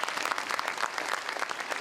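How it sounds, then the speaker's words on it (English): An audience at a mayor's 2025 State of the City address applauds, dense steady clapping from a crowd throughout, heard alone without talk. "Give them a round of applause, you guys."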